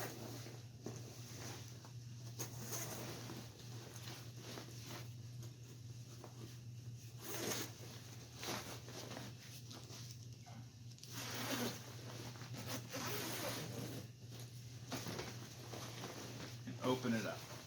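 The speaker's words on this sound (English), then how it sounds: "So I want to go ahead and unzip." An old, deteriorated sleeping bag being unzipped, with several bursts of zipper rasping and fabric rustling between pauses, close and faint, with speech in places.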